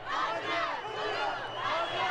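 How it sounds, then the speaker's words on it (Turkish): Volleyball players and a packed arena crowd chant together in celebration after a world club championship final win in Doha, a loud, dense roar of voices swelling in waves. "kendi kendine tezahürat yapıyorlar. Tribünlerle birlikte coşuyorlar"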